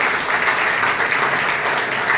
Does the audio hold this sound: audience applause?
yes